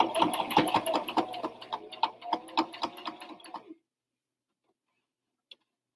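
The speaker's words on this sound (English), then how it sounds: "I'm going to flip that up and sew" A sewing machine stitches beneath the flap of a denim bag, a steady fast mechanical rattle up close for several seconds, then it stops abruptly into near silence with one faint click.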